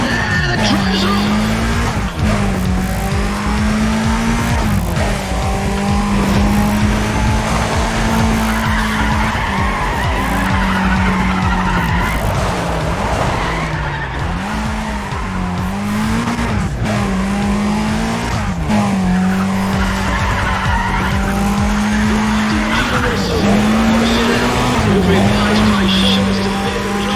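Race cars in the NFS ProStreet video game roar off the start line, their engines droning and revving steadily with repeated tire squeals and skids throughout, while someone talks over the action.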